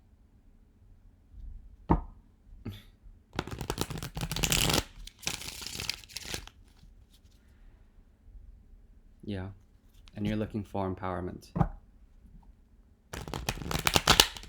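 Bursts of tarot card shuffling, crisp riffling clatter in two or three runs, with a person speaking briefly in between.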